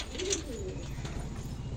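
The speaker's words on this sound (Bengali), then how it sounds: "দাদা বললে যে পায়রা খুব ভালো পায়রা, আপনি নেন দুটো পায়রা উড়ান" Pet pigeons coo softly nearby, low rolling calls at a quiet level with a brief higher chirp early on over a steady background hum.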